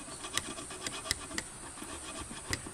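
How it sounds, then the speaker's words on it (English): Sandpaper rubs varnish off the wooden handles of old garden tools, such as shears and loppers, in a steady close scratching with repeated strokes and a few sharper scrapes. No one speaks. "sanding all the rest of this varnish off"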